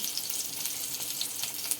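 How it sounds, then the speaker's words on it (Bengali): Rohu fish frying in oil in a wok, a steady close hiss and crackle of sizzling oil throughout, with no talking. "প্রথমে মাছগুলো আমি সুন্দর করে ভেজে নিচ্ছি।"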